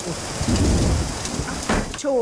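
Steady rain in a thunderstorm with a low rumble of thunder, a burst of heavier noise near the end, and a faint voice briefly underneath.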